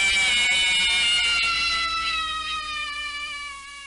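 The animatronic jumpscare scream from the Five Nights at Freddy's video game plays as a loud, harsh, shrill electronic screech that holds steady and then slowly fades over a few seconds.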